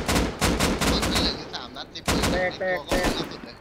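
Gunfire in the video game Rust as players shoot at a turret: loud, close bursts of rapid shots in two clusters with a brief lull between, with a voice talking over the firing.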